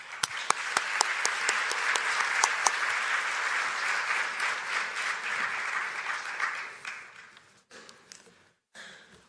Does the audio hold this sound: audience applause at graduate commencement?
yes